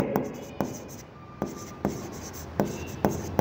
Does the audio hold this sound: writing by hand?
yes